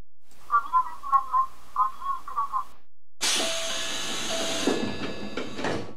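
A local train pulls away from the platform in the Train Crew railway simulator, bound for Tatehama. A burst of broadband motor and rail noise starts and holds steady after a few announcement-like tonal chimes.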